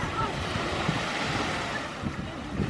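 Waves wash onto a late-summer beach under steady wind rumbling against the microphone, a continuous close roar of surf and gusts with no clear speech.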